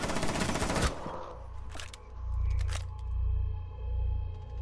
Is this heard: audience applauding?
no